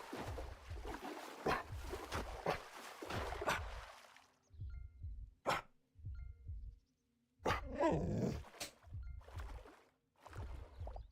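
A dog in the video game Hytale barks in repeated bursts, close and fairly loud, with a growling stretch and splashy water sounds in between and quiet pauses.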